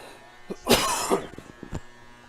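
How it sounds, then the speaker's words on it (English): A single harsh cough bursts out near and loud in a high school football broadcast booth, followed by a few softer throat sounds and small clicks. "Excuse me with the cough."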